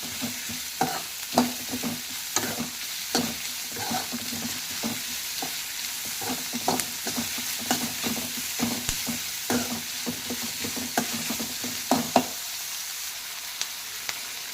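Onions frying in a pan for eggplant rice, a constant close sizzle with irregular clinks and scrapes of a spatula stirring throughout, no talking, the sizzle thinning near the end.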